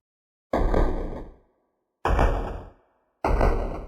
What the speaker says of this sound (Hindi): और तब घर के दरवाजे पर धीरे धीरे दस्तक होने लगी।